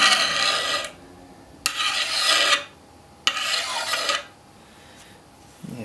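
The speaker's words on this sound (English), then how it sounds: "I'm just going to test this one again, just with the file I've got in the workshop" A workshop file is dragged across the hardened edge of heat-treated 5160 spring steel, giving three rasping strokes in a slow rhythm with pauses between, close and fairly loud, with no talking.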